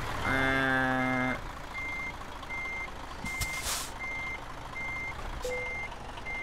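Truck reversing beeps from Euro Truck Simulator 2 as a rig backs up to a yellow trailer: a steady series of evenly spaced, clear electronic beeps over a low engine rumble, with a brief loud horn-like tone at the start.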